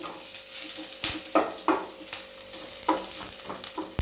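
Onions fry in a pan while being prepared for Maggi, a constant close sizzle with repeated scraping stirs and light knocks of the spatula against the pan, no one talking.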